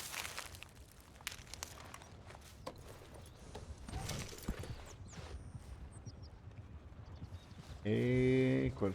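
Horse hooves clip-clop steadily in Red Dead Redemption 2 beneath game ambience and background speech, ending with a loud, drawn-out whinny near the close.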